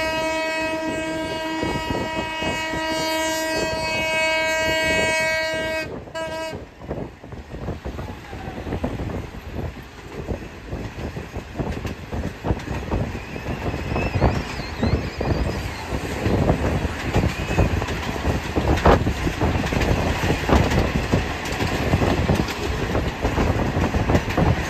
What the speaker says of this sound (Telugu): మొత్తానికి అయితే మోషి సిటీ నుంచి ట్రైన్ స్టార్ట్ అయిపోయింది